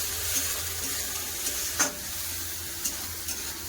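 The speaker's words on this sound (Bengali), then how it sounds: "কেটে রাখা পেঁয়াজ আর কাঁচা লঙ্কা পেঁয়াজটা একটু ভালো করে ভেজে নেবো" Chopped onions and green chillies fry in a pan with a soft, continuous sizzle, and a spatula stirs them with light scraping clicks, close and fairly quiet.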